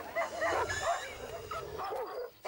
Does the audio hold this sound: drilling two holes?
no